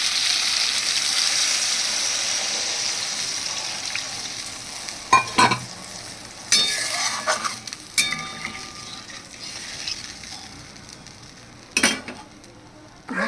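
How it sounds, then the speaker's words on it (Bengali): Water goes into a hot pan of fish curry for a thin potato and fish broth, bringing a bright hiss over steady frying, with several sharp clinks and scrapes of stirring utensils against the pan. "দেখো দিয়ে দিচ্ছি জল।"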